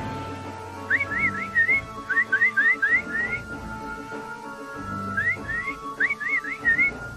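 Cartoon monkeys whistle in quick bright rising chirps, grouped in bursts of three or four, over a soft musical background with no talking.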